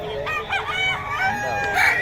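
A single loud, close rooster crow fills the moment, a long wavering cock-a-doodle-doo with a rising, strained ending.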